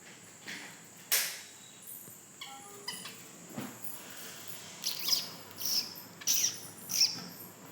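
A pet bird calls with a series of short, sharp chirps and squawks, some louder and closer than others, spaced irregularly over a quiet background.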